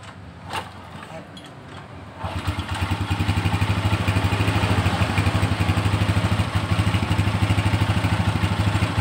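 A motorcycle engine is kicked to life after a few quiet clicks and scrapes, then settles into a steady, loud, rhythmic idle thumping close by.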